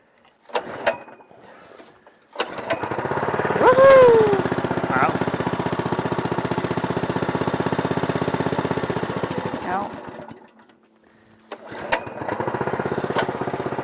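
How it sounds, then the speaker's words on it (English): A small-engine stone compactor starts up and runs loud and steady for about eight seconds, cuts out, then starts again and keeps running, packing down a stone base. "I'm gonna try to get the compactor running and get this packed once before I bring in more stone for there."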